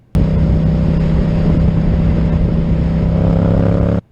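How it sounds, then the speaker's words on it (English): A motorcycle engine roars loud and close with a steady, harmonic drone. It starts abruptly, holds at an even level for about four seconds with no voices, and cuts off sharply. "Right there, you can hear the motor as he revs"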